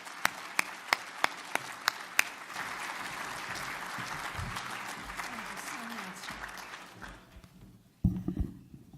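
Audience applause welcoming a keynote speaker at a conference, a few loud single claps at first, then sustained clapping from a crowd that fades out before a voice and some handling noise at the end.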